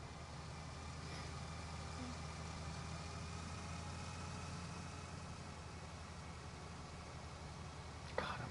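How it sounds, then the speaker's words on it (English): A farm tractor idles steadily in an open field during swathing work, a continuous low engine rumble running throughout with a brief sharp clank near the end. "I'm going to have to move that tractor."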